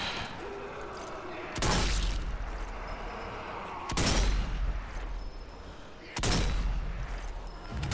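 Three heavy, echoing rifle shots in the zombie shooter Zombie Army 4, spaced about two seconds apart, each a loud crack followed by a lingering rumble over a busy background of game noise.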